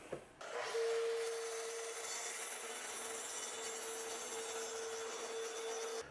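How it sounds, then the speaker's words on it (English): A track saw cuts a glued-up wood panel for an ottoman table, giving one continuous, steady whining cut of about five seconds that sits fairly close, with no voices. "then I'm going to break out the track saw"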